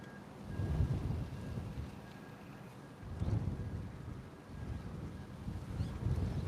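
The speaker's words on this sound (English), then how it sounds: "I'm in the storm now" Thunderstorm with rolling thunder and rain, low rumbles swelling in three waves over a constant hiss of rain and wind, moderately faint and distant, no voices.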